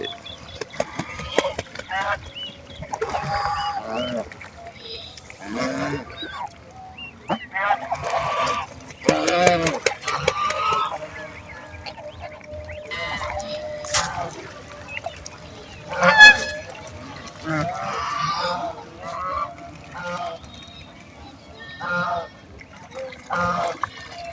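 Village-raised domestic geese bathe in water, with wings flapping and splashing in bursts and honking calls that come again and again, close and fairly loud throughout.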